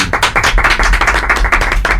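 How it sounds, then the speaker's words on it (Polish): An audience claps loudly and close for a volunteer of the year from Starogard Gdański commune, the claps landing in a brisk, fairly regular rhythm throughout. "teraz brawa dla Zuzanny Trzoski, wolontariuszki roku gminy Starogard Gdańskiej"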